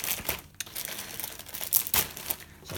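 A taped plastic parts bag from a Revell Unimog U 1300 L model kit being tugged and torn open, with close crinkling, rustling and short ripping bursts.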